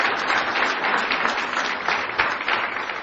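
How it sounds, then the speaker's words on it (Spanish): Sustained, dense applause from a church congregation welcoming a preacher to the pulpit, steady and fairly loud throughout with no break. "Aplauso para recibir la palabra."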